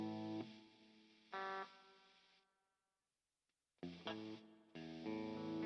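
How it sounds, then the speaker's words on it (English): Electric guitar played through the GigFast Mobile amp app with reverb and overdrive: a few sustained, distorted chords ring out, drop into a brief silence, then resume strongly. "Oh, that's the reverb. Overdrive."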